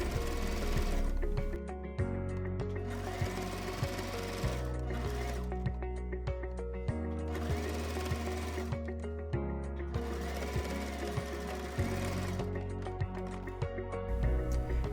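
A sewing machine stitching a shirt collar seam, running in steady rapid bursts of mechanical clatter with brief pauses between runs.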